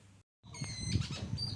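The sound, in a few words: birds singing at dawn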